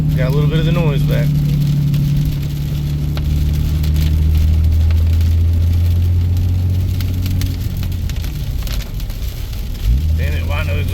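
A diesel truck's exhaust brake drones at a steady low pitch, a sustained engine rumble that shifts tone partway through while driving, with a little talk at the start and end.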